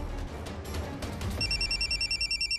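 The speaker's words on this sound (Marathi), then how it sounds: "चला लावलाय फोन," After a short rustle of handling noise, a telephone begins ringing on a dialed call, a rapid, bright pulsing electronic ring repeating steadily to the end.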